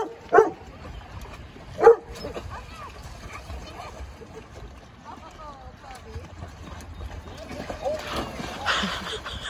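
A dog gives two sharp barks near the start, then soft whimpers follow, with a voice speaking and outdoor, watery noise rising toward the end.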